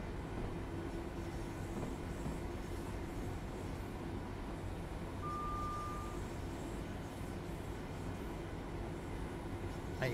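Class 66 diesel locomotive in Train Sim World 3 runs with a steady, loud low-frequency engine drone and rumble that holds constant throughout, with no talking over it.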